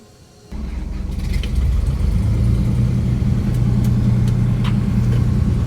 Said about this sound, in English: engine started on the world's shortest flight